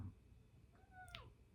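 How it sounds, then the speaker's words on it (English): A male house cat gives a single drawn-out meow, close and fairly clear over a quiet indoor background. "My cat voicing his opinion."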